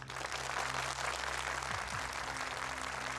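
Audience applause for a contestant at a Quran recitation competition, a steady broadband wash of clapping throughout, with a faint low background hum.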